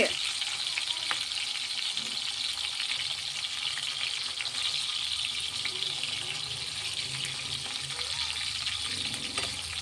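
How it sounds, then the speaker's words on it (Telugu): Dried fish frying in a pan for a village-style dried fish curry, giving a steady, dense, close sizzle that holds evenly throughout with no talking. "ఎండు చేపలు అయితే కొంచెం ఇలా ఫ్రై చేసి పెట్టుకుందాం"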